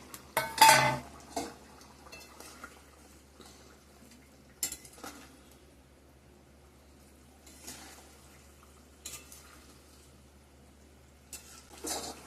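Fish pieces go into a pot of boiling curry gravy, with scattered clinks and clatters of pot and utensils, a louder splash-like burst at the start, and quiet bubbling in between.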